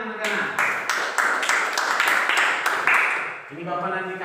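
Children in a classroom clap together in a quick rhythmic pattern of bright, close claps, with voices mixed in and an adult voice speaking as the clapping ends.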